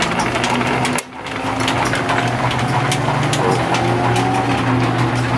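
Motors of an antique Canedy Otto camelback drill press, each side on its own motor, run with a steady close whirring hum and a brief dip near the start, then continue evenly with no talk.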